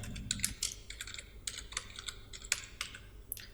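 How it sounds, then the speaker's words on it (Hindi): Rapid, irregular clicks of keys being typed on a computer keyboard, close and fairly quiet, in short bursts with no talk. "तो इसके लिए हमने सबसे पहले लिखना है कंपनी रजिस्ट्रेशन"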